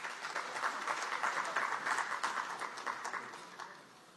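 Applause at a national conference of legislative Estimates Committees in Maharashtra, welcoming the state's Chief Minister: dense, steady clapping from a large hall audience that holds for several seconds, then thins slightly toward the end.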